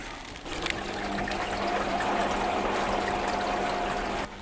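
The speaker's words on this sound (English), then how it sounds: "It's just started to pump out about 3 or 4 minutes later. It's pumping out a grim kind of snotty water." A faulty Beko washing machine pumping out dirty water: steady rushing of water draining out in a continuous stream, with a faint mechanical hum underneath and no talking.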